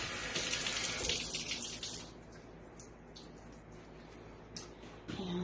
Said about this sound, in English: So I'm going to go ahead and rinse this out.